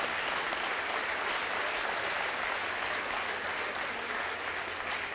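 Theatre audience applause during a Swiss-Italian cabaret sketch, a dense, even wash of clapping from a large crowd, steady and unbroken, somewhat distant and with no voices over it.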